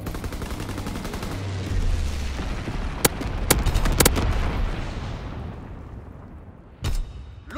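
Call of Duty WWII incendiary bombing run: a rumbling roar of fire and distant explosions with several sharp, loud gunshots cracking out in the middle, then a final thud as the din fades.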